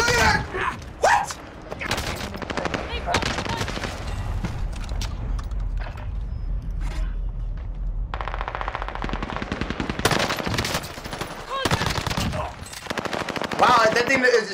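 Call of Duty multiplayer gunfire, with long rapid automatic bursts of close, loud shots firing in dense rhythmic volleys and brief gaps between them.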